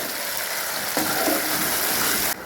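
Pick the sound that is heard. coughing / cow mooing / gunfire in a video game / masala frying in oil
masala frying in oil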